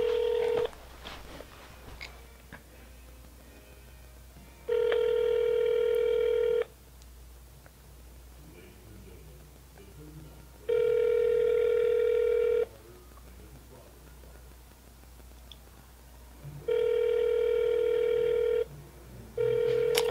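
A telephone ringback tone sounds on a call to a McDonald's, three evenly spaced two-second rings with a fourth starting at the end, heard over quiet line hiss with faint handling noise between rings.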